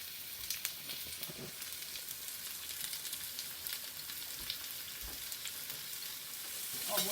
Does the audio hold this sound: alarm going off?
no